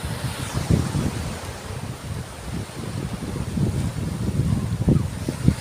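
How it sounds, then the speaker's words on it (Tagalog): Heavy surf churns under strong gusting northeast monsoon wind at Burias Island, a continuous loud roar with repeated low surges as waves break close by. "Malakas yung alon."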